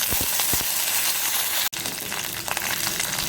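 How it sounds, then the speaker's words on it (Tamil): Mustard seeds, urad dal, dried chillies and curry leaves crackle and sizzle steadily in hot oil, a loud close continuous hiss with a few popping bursts and one brief break partway through. "எண்ணெய் சூடாயிடுச்சு, கடுகு உளுத்த பருப்பு போட்டுக்கோங்க. காஞ்ச மிளகாய், கருவேப்பிலை போட்டுக்கோங்க."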